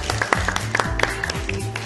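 A crowd applauds a guest at the close of an interview, with brisk bursts of clapping and cheering blending with voices and a low musical background, fairly close and loud.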